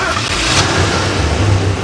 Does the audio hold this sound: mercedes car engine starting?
yes